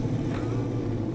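Deep, steady engine drone from a Corvette built as a mud truck in a modded SnowRunner game, a continuous low rumble held at constant loudness throughout.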